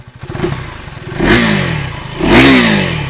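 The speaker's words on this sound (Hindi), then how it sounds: "अब मैं एग्जॉस्ट के पास आके थोड़ा सा बाइक को रेव करता हूँ।" A 2023 KTM Duke 390 single-cylinder motorcycle revved up close to its light exhaust, idling then rising sharply in two loud throttle blips with falling engine tones after each.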